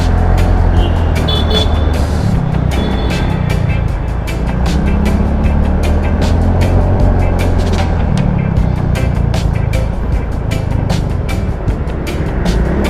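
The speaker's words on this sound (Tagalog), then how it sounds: "Gamit pa rin natin syempre ang ating Yamaha Faccio. (125cc)" A Yamaha Fazzio 125cc scooter hums along steadily on the road, a continuous engine drone and wind rush heard close and loud throughout, with scattered clicks and bumps on top.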